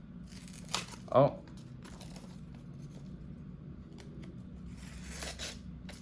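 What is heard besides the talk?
Civivi Elementum knife cutting paper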